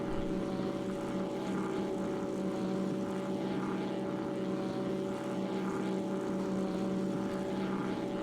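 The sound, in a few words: propeller aircraft engine at full throttle in video game X-Plane 11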